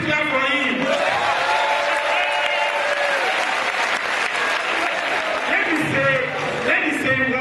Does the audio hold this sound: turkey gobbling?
no